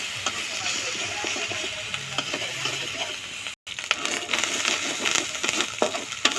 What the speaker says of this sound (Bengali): পেস্টটা ভাজা হচ্ছে, তেল ছাড়া দিচ্ছে।